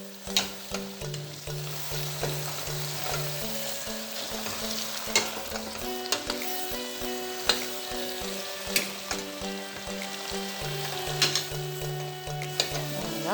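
Homemade couscous being stirred in a pan, with steady frying sizzle and repeated scraping and clinking strokes of a utensil close by, continuing throughout with no talk.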